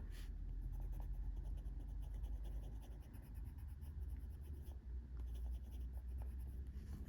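A colored pencil in India Red scratches softly across paper in quick, continuous back-and-forth strokes, close and quiet, with brief pauses between passes and no speech.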